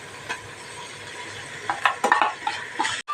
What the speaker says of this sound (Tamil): வெங்காயத்தில் மசாலா மிக்ஸ் பண்ணி வச்ச மசாலாவை இதில் ஊற்றிடலாம்.